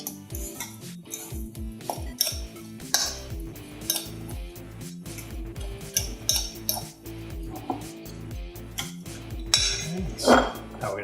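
A spoon clinks and scrapes against a bowl while crab cake mixture is stirred together with mayonnaise, giving irregular close clatters and knocks throughout.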